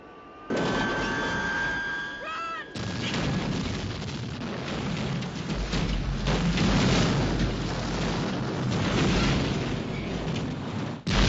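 A large explosion from the science-fiction film Aliens erupts in a sustained roaring blast with rumbling debris and crackle, loud and dense for several seconds after a short lead-in.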